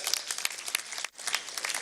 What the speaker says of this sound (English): Can you give a round of applause to that?